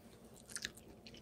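Roasted cauliflower is chewed close up, giving a few quiet crunching bites clustered in quick succession, with a final crisp snap.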